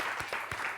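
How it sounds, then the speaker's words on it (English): Brief burst of audience applause at a celebrity interview, dense steady clapping filling under a second, fairly close and even. "for Yash particularly, along with Ananya, round of applause"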